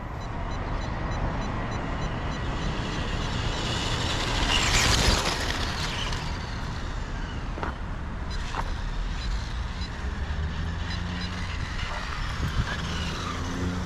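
RC speed-run car driving back toward the operator, a continuous mid-distance motor whine and road rumble that swells briefly around the middle, with no talking.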